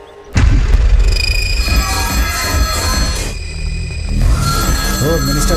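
A telephone rings in a Hindi-dubbed South Indian action film scene, its repeated bright electronic trill carrying loudly over dense background score and low rumbling for several seconds.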